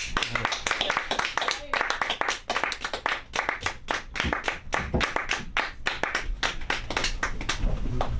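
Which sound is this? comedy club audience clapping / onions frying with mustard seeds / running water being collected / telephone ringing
comedy club audience clapping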